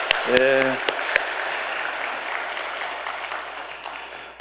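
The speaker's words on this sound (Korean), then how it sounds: "우리 격려의 박수 한번 따뜻하게" A church congregation at a Sunday service applauds their pastor, a broad steady clapping that holds and slowly fades, with a brief voice and a few sharp taps near the start.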